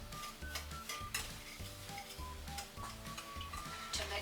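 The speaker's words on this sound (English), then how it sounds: "I give that a stir" Flour and two cups of sugar stirred together in a bowl for a blackberry cobbler, a steady scraping and tapping of the utensil against the dish, close and fairly quiet, with no talking.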